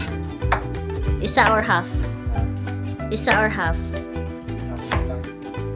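Knife chopping an onion on a wooden cutting board while cooking palabok, steady rhythmic taps in bursts, close and clear, with a person talking over it.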